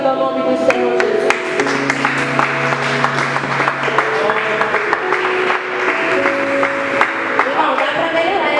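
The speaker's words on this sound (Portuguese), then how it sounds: "Pode se assentar, aplaudindo e glorificando o nome do Senhor Jesus." A church congregation applauds during a worship service, with continuous scattered clapping layered over sustained music and singing voices.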